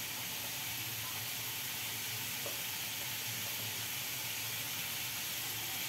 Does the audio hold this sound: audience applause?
no